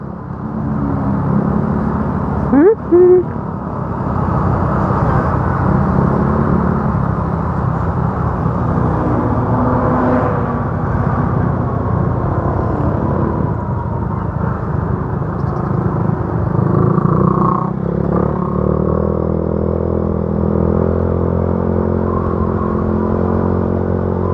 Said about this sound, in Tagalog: dahil makakasingit-singit tayo sa liit ng motor natin